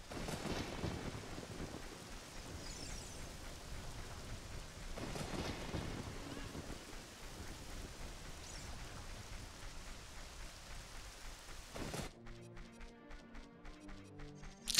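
Video game rain in Zelda: Ocarina of Time hisses and patters steadily for most of the stretch, with a couple of deeper rumbling swells. Near the end it cuts out and plinking tonal music takes over.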